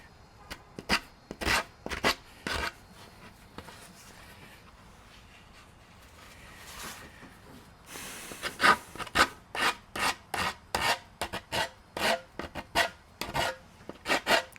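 A chipped tail of an old wooden skateboard is sanded by hand, with sparse rasping rubs at first, then a steady run of rhythmic back-and-forth scrapes heard up close with no talking.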